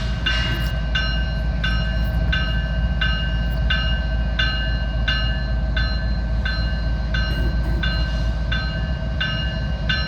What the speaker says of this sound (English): get a good view of this train